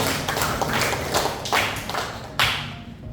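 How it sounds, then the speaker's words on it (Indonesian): A small group of students claps in a classroom, uneven slaps with a few sharper accented claps, fairly close and without talk. "Kasih tepuk tangan dulu dong untuk kita semua."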